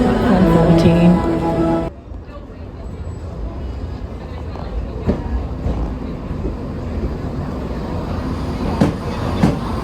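A train at a railway station platform, with steady rumbling station ambience and scattered clicks and clatter after a louder burst of voices and noise at the start.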